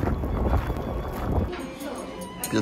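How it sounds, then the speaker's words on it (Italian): Wind buffets the microphone in low rumbling gusts outdoors in Vienna, Austria, loud at first and easing off, with a voice briefly audible. "C'è giusto un po' di vento."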